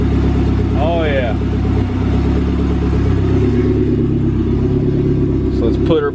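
An SRT4-swapped Dodge Caravan engine idles with a steady, close low rumble throughout while someone talks over it.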